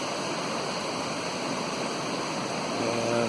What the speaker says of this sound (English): You can hear the water pouring out of the culvert behind me.